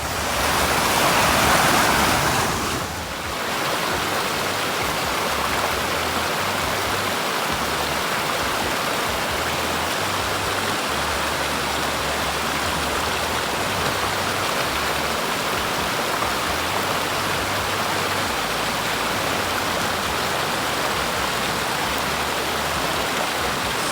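Stream water rushes and splashes steadily as a vehicle drives through a mountain creek near a campground in Azusa, with a brief louder surge at the start, then a constant close wash of flowing water.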